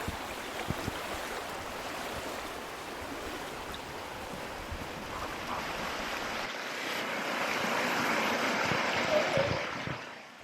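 A river rushes over a stone ford in the Yorkshire Dales, a steady broadband wash of flowing water with some wind noise, continuous and fairly close, swelling slightly louder toward the end.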